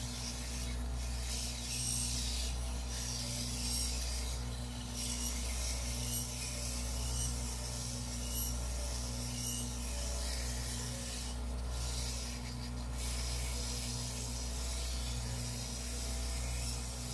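Continuous close rasping of 50 grit sandpaper against a 12-inch wooden longtail oblique pen holder spinning on a lathe, with periodic brighter swells of friction over a steady motor hum.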